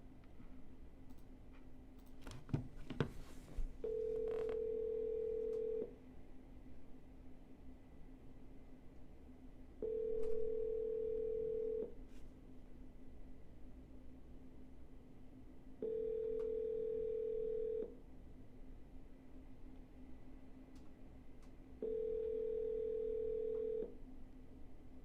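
A telephone call repeats a steady ringback tone in four evenly spaced two-second bursts, separated by quiet gaps, after some brief dialing clicks at the start. The tones are clear and close, and no one speaks.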